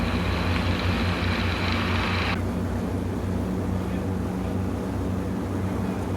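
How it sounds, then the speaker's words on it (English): A Bushmaster tri-motor airplane rolling for takeoff, a loud steady engine drone heard from inside the cabin, with a high whine dropping away partway through. "Once the tri-motor begins to roll, don't worry about rotating the nose."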